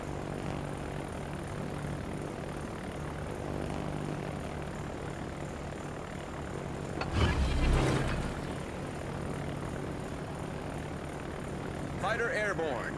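Fighter aircraft launching from a warship in the naval battle game World of Warships give a continuous propeller-engine drone, swelling to a louder rush midway, with faint game voices and effects around it.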